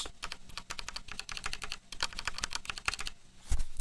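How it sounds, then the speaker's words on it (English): Keys clatter at a brisk, uneven pace on a Blackmagic Speed Editor keyboard with mechanical switches. Each press is sharp and clicky, heard close up with no voices. "Does the keyboard have mechanical switches?"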